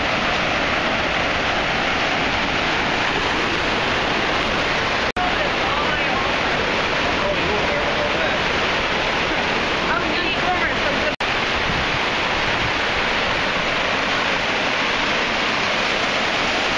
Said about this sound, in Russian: Парк с водопадами.